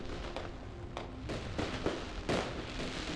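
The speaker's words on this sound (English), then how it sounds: "That's a lot of fireworks." A huge Martian fireworks show in the video game Surviving Mars: a string of sharp crackling bursts and booms at an even middle distance over a steady rumbling bed, with the biggest blasts near the middle and end.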